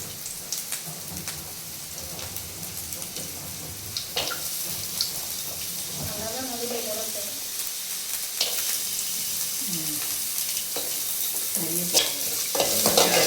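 Carrots stir-fried with cabbage for street-style chicken fried rice, a steady close sizzle with scraping stirs and clinks running throughout, no voices.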